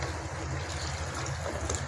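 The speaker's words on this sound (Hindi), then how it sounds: "अब हम इसमें पानी डालेंगे तकरीबन 1 गिलास।" About a glass of water is poured into a pan of pumpkin and meat curry (kadu gosht), giving a steady, rushing liquid wash that runs unbroken for the whole moment with no voices.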